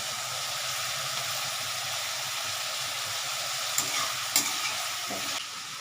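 Onion frying in a pan for pav bhaji, a dense, continuous sizzle that stays loud and even throughout, with a couple of brief clinks near the end.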